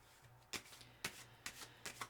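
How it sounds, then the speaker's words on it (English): Four or five quick riffle shuffles of tarot cards, each a crisp papery burst at a steady pace, close up in a quiet room. "I'm going to shuffle and draw"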